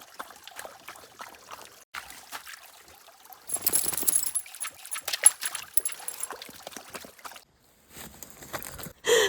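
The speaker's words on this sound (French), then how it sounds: "Pendant qu'Enzo fait une pause pour boire dans le petit ruisseau" Enzo, a dog, laps water from a small stream, wet irregular slurps and splashes close by over a trickling brook, pausing and then resuming.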